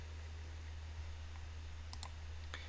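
A computer mouse clicks a few times in quick succession while opening an image file from a build folder on a Windows PC, each click small and crisp over a steady low electrical hum.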